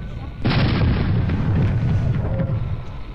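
A cannon blast from the airship combat game Air Buccaneers erupts suddenly and loud after a short lull, then rumbles and decays over a few seconds.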